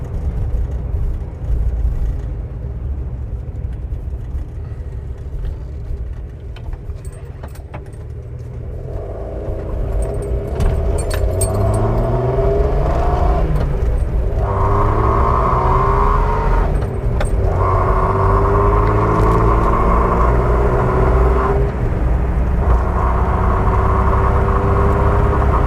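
A Jeep with a swapped 4.6 engine cruises along with a steady, droning engine rumble that rises as it accelerates around the middle, then falls and climbs again through the gears, with rattles and road noise mixed in.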